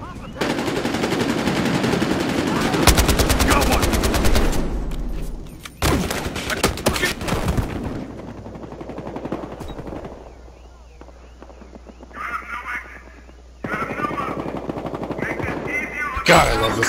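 Rapid automatic rifle bursts from an AK-74 in Battlefield Hardline, loud, repeated volleys through much of the stretch with gaps between, mixed with game effects and faint voices in the background.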